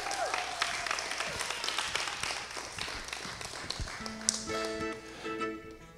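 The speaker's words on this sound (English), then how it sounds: "Give them a round of applause." Live audience applause for two players, Georgia and Naomi, at a gaming event, a burst of scattered hand claps over a busy room with some background voices and music.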